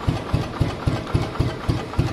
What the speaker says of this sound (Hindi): बिल्कुल लो आरपीएम पे चल रहा है जैसे पहले बुलेट चला करते थे।